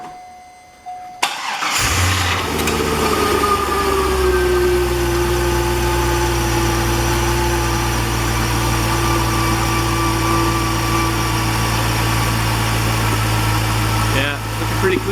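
A 2004 Corvette, just after a power steering flush, cranks briefly and catches, then settles into a steady loud idle with a deep rumble and a faint whine, close by and alone.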